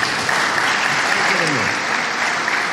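A crowd applauds at the inauguration of a social headquarters, loud and continuous clapping filling the space, with a voice briefly audible beneath it.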